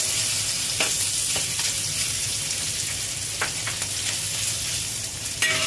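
Pork belly stir-frying in a wok with oil, a steady close sizzle with a few scraping stir strokes breaking through.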